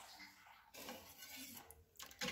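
A utensil stirs powdered broth seasoning into a simmering coconut-milk mixture in a pan, making faint, intermittent metallic scrapes and clinks against the pan with no voices.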